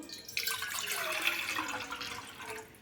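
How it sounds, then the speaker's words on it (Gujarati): Water pours into a cooking pot on a gas stove for wheat vermicelli, a steady close splashing stream running for a couple of seconds before tapering off. "તેની અંદર પાણી એડ કરીશું"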